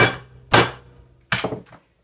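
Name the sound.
sledgehammer striking a crimper tool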